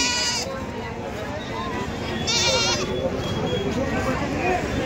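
Male goats brought for Qurbani at the Varkhedi goat market before Eid bleat in a couple of brief, fairly close cries amid crowd chatter and someone talking.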